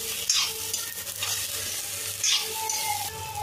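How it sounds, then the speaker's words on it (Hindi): Potatoes and cauliflower stirred in a frying pan for a dry spiced aloo gobhi, a steady sizzle with a few scraping spatula strokes, close and continuous, no talk. "अब इसको थोड़ी देर तक हम ऐसे ही चलाते हुए पकाएंगे"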